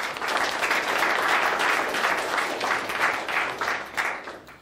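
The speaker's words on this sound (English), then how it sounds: "I think that deserves a round of applause." A room full of people claps at a company's headquarters announcement event, a continuous dense patter of applause held at an even level for several seconds, tapering slightly at the end.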